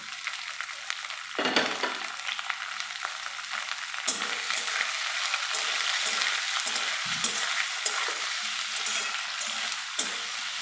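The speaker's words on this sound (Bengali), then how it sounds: "এই সবজিগুলো একটু ভালো করে ভেজে নেব" Onion, capsicum, tomato and chopped green chilli frying in a pan for veg chowmein, a steady loud sizzle broken by scraping stirs and a few sharper clatters, with no talk.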